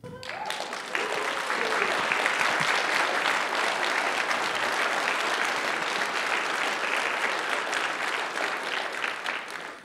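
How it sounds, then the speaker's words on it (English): Audience applause at a tech conference keynote, a dense, sustained wash of clapping that starts at once and holds steady and fairly loud for the full stretch, fading slightly at the end. "So I'd like to get a round of applause for Jason Slagle."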